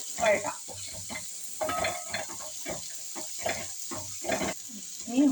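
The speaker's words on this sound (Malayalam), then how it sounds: "തേങ്ങ കുത്തിട്ട് നല്ലതുപോലെ നമുക്കതിൽ വഴറ്റാം." Chopped dried coconut (copra) is sautéed in a pan for chicken curry, the sizzle broken by repeated scraping and stirring strokes of a utensil against the pan, close and fairly quiet.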